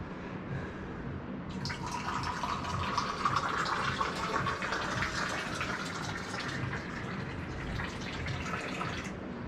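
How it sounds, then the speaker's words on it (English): Tea streams steadily into a cup for several seconds at a surf house in Morocco, a continuous close pouring splash with no voices. "Morad is going to pour me a tea."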